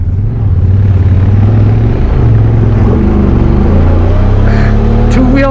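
Honda Talon side-by-side with a DCT transmission climbs a steep trail, its loud engine droning steadily and then shifting pitch as it downshifts, with a rising whine near the end.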